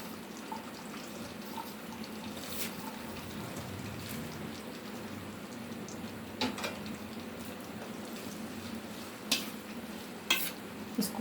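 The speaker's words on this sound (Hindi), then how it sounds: "ये तेल गर्म हो चुका है और इसमें से आवाज़ आ रही है तेज़ गर्म। और अब मैं इसमें ये भिंडी डाल रही हूँ।" Steady sizzling of okra frying in hot oil, a continuous crackling hiss with occasional sharper pops and spatters, close by.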